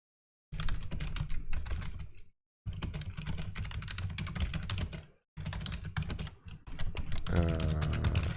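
Someone types on a computer keyboard in rapid bursts of close clicking, broken by short pauses, with no speech over it.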